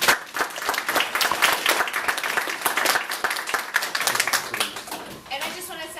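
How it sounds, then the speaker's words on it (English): An audience at a transit planning meeting breaks into sustained applause, dense steady clapping from many hands that carries on loudly for several seconds before thinning toward the end. "I'd like to give everybody a round of applause"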